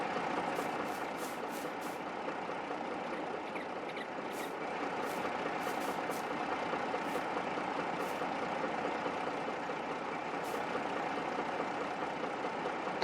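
A tractor engine in Farming Simulator 22 idles steadily with a low, constant drone, joined by occasional short high-pitched ticks or beeps.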